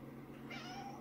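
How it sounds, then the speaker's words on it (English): A house cat gives a single short meow, faint and close by, over a steady low indoor hum. "That's a cat."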